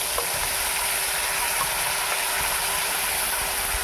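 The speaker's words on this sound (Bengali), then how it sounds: "আমি একটু জিরা দিলাম, জিরার সেন্টটা সুন্দর হয় কারণে জিরা দিলাম, জিরা বাজি হয়ে যাক একটু" Cumin seeds fry in hot oil with a steady, close sizzle and crackle that fills the whole stretch, as part of a home-cooked Bengali lunch.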